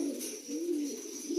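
Domestic pigeons in a loft coo in soft, low, rolling phrases that rise and fall steadily, close and clear with no talking.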